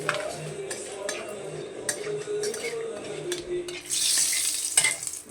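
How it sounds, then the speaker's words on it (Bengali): Two bay leaves dropped into hot oil for a Bengali kaine fish curry, giving a steady moderate sizzle with clinks and stirring scrapes from the pan, the frying growing brighter and louder near the end. "দেখো ফ্রেন্ডস, তেলটা গরম হয়ে গেছে, দুটো তেজপাতা দিয়ে দিলাম।"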